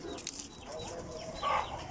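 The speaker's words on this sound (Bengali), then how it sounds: "আমার ছাদে হাঁস মুরগি এই যে সব আছে আলহামদুলিল্লাহ" Chickens on a rooftop where ducks and hens are kept, giving faint, scattered clucks over a soft background, with one louder call near the end.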